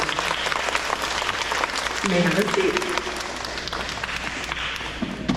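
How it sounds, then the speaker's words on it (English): Steady applause from a crowd at an elementary school awards ceremony, with an adult voice speaking briefly over the clapping partway through. "Let's give them a round of applause for all their work."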